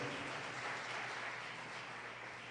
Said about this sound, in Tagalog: Lahat ng umaasang may pangako ng Diyos na plano sa atin, pumalakpak ng malakas sa ating mahal na Panginoon